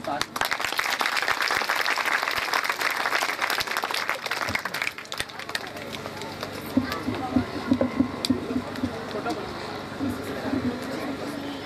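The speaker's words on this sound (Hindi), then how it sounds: "प्लीज़ ताली" Applause from a school annual ceremony audience welcoming a guest, loud and dense at first, then fading into scattered claps and crowd murmur.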